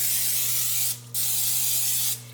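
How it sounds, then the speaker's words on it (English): Nonstick cooking spray hisses onto a baking pan in two long, steady bursts separated by a short pause, close and loud. "Let's spray it with some nonstick spray."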